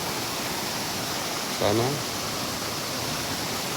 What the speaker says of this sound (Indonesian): ada air terjun dan aliran sungai sangat jernih